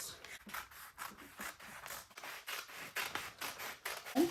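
Scissors snip fabric along a marked pattern for a short bubu dress, a steady series of soft, close crisp cuts and rustles in a quiet room.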